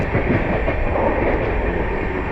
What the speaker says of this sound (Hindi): स्वराज सुपरफास्ट की क्रॉसिंग होने वाली है हमारे साथ।